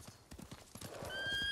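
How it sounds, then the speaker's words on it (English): Samurai horse hooves clip-clop in Ghost of Tsushima, a steady close trot of hoofbeats that grows louder and is joined near the end by a high neigh. "Come here, horse!"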